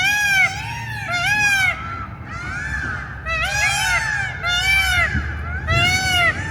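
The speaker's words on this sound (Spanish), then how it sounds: "se escuchan gritos de pavos reales a cada ratito" Loud, wailing peacock calls repeat several times in nasal, honking cries, fairly close, over a low background murmur.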